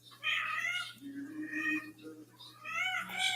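A house cat meows in several drawn-out, wavering calls, fairly close and clear, over a faint steady electrical hum.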